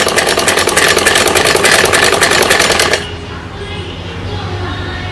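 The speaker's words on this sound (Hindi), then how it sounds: "यहाँ पर भी सिलाई लगा लेते हैं इसके पूरे पर" A sewing machine stitches fabric for a children's night suit in a fast, loud, rhythmic run for about three seconds, then stops abruptly, leaving only a low room hum.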